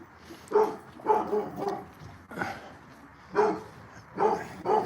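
Several dogs barking in a series of short, close, medium-loud woofs, about seven barks coming in uneven bursts, with no talking over them.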